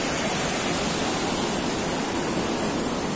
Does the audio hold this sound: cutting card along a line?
no